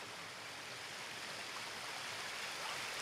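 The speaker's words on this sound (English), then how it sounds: "you can hear the music of it as it goes by." The young River Trent flowing as a small stream, a steady broadband rush of running water, close and even throughout with no voices.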